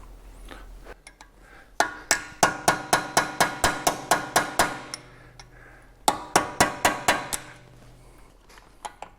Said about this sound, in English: So we're going to take a punch and we're going to try to relieve these pings first and then take the nut off